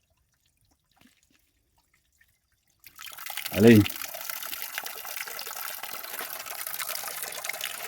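Spring water begins gushing out after a few seconds of near silence, then keeps flowing in a steady, close, bright stream while someone speaks a couple of words.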